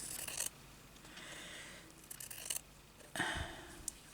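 Scissors snip through material for a hand-sewn journal bag in three short, crisp cuts spaced apart, close and fairly quiet, with soft handling noise between them.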